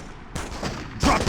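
Gunshots in the 2004 Spider-Man 2 video game, a short burst of sharp cracks fired in quick succession, fairly close and loud, with a heavier shot at the end.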